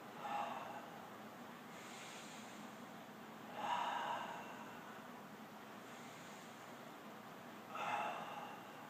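Slow, deep breaths drawn during a yoga pose with hips lifted and head back; three long airy inhales or exhales roughly four seconds apart, close and soft over a quiet room hiss.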